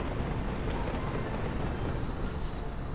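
A train in Workers & Resources: Soviet Republic rumbles and grinds steadily as it starts to move, with a faint high wheel squeal above the low, constant rolling noise and no talking.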